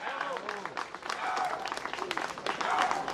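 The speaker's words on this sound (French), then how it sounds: "Christian Mazola, les applaudissements du public." Audience clapping at a podium award event, dense and continuous, mixed with crowd voices and talk throughout.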